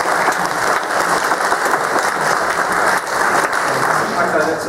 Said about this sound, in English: we should all put our hands together for the Irish win